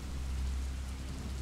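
Rain falls steadily at night near a cemetery, a soft, even hiss with a low rumble underneath that stays constant and fairly faint throughout.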